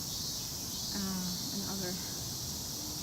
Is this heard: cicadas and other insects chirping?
yes